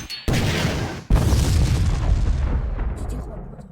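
Bombs detonating in the video game Garry's Mod: two loud, deep blasts in quick succession, the second followed by a long rumbling decay that fades out.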